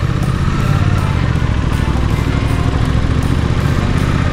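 A Suzuki GSX-8S motorcycle engine thrums steadily while riding, a close, loud, even mechanical drone with rhythmic pulsing and wind rush over it.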